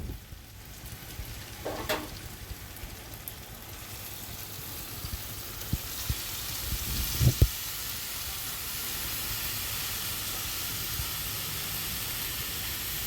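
Chopped banana flower goes into a pan of Gobindobhog rice, potatoes and spices, frying with a faint continuous hiss and sizzle, a few light scrapes, and a small clatter as it is added.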